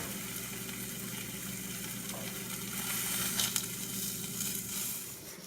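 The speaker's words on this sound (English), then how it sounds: "the sausage, I am going to flip it over" Sausage frying in a breakfast pan after being flipped gives a steady, moderately quiet sizzle throughout, with a few brief crackling spurts midway and no talk.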